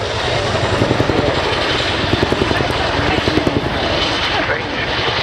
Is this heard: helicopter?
yes